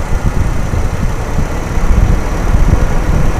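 A Toyota Kijang Super engine idles steadily through a tune-up, a loud, continuous low rumble with constant vibration and no voices.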